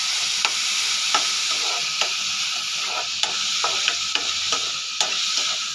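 Grated carrots fry with sugar for gajar ka halwa, a continuous sizzle punctuated by sharp, regular clicks of a spoon scraping and stirring against the pan, close and moderately loud.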